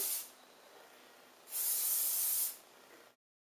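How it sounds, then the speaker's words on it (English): Hairspray hisses onto freshly curled hair in two bursts, a short one at the start and a longer one of about a second, both close and loud with quiet between. "what I'm going to do is just give it another good spray."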